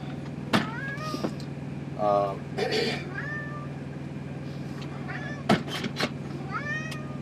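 A cat meows repeatedly in short, rising calls, fairly close, with a steady low hum and a brief mechanical whir in the background.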